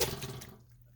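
Wet, splashing pour of kiwi into a jam pot for canning, close and fairly loud at first, then fading quickly to quiet.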